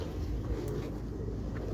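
A pigeon coos softly in a low, throaty murmur against a steady background hum, on a rooftop in Lahore.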